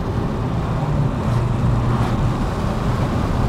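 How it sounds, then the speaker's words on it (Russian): A Chery car drives along with its engine running quietly and unstrained, giving a steady low rumble with road and wind noise from inside the cabin and no voices. "она как едет, и так мотор-то не напрягается прямо, не особо и ревет-то"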